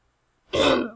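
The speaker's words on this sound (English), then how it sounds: "I'm coughing." A single short throaty cough or throat clearing bursts out close by after a moment of silence.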